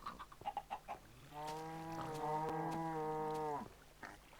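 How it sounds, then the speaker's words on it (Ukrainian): Cows moo in the Minecraft video game: one long, loud, drawn-out moo follows a few short faint sounds, with no speech. "Корів так чути сильно, блін."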